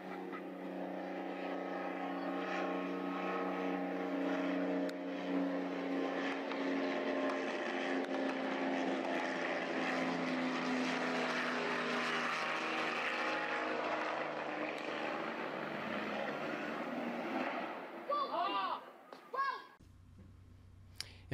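Twin-engine skydiving jump plane in flight, its propeller engines droning loud and steady for a long stretch with a slight irregular popping, before the sound drops away abruptly near the end.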